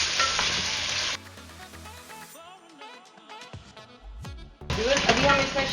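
Chicken sizzling and frying in a pan as ginger and garlic paste goes in, a loud steady hiss that drops away in the middle and surges back, with a voice talking over part of it.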